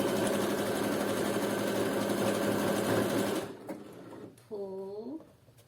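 A sewing machine whirs in a steady, rapid run while sewing the side of a thong with rings, then cuts off, followed by a brief voice and clicks.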